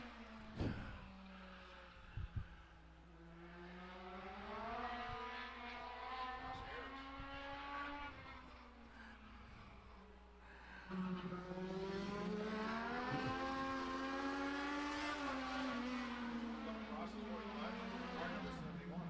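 A race car runs on the track during qualifying at Madera Speedway, its engine faintly rising and falling in pitch through repeated revs and shifts beneath an announcer's steady commentary.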